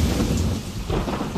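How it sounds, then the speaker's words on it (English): Heavy rain and thunder pound a tent at a scout camp, a loud, continuous roar of downpour with low rumbling throughout. "Max, I think the rain is leaking in through our tent."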